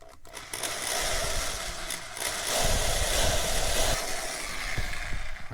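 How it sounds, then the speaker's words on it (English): A handheld drill whirs up to start a pilot hole during a van build project, its motor rising and holding a steady buzz for several seconds, close by and fairly loud, with no one talking. "Just want to start a pilot hole."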